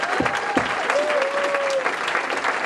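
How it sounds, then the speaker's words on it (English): An audience at the Punchline comedy club in San Francisco gives a sustained, dense round of applause that stays steady and loud throughout, with a few brief whistle-like tones rising above the clapping. "So can we give one last good round of applause for Mr."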